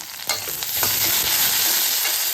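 Tomato and potato sautéing in a pan for sambar, a close, steady sizzle with a few sharp scrapes and knocks from stirring early on.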